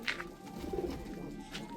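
Pigeons on a rooftop loft cooing softly for a moment, low repeated coos against quiet open-air background.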